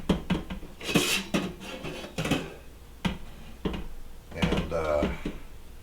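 A pot of chicken-flavored TVP noodles is lifted off a home stove, with loud, irregular clanks and clatters of dishes and metal cookware scattered through the moment and brief bursts of talk between them.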